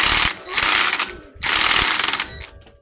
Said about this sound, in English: size 14 hex nut on an impact wrench, and we're gonna attack it with that and see how we do